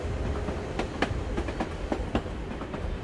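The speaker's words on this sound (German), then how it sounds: "Tram will take me to the edge of the Volga." A tram rolls along in Assassin's Creed Chronicles Russia, with rhythmic clickety-clack rail joints and a steady rumbling carriage under a faint whine.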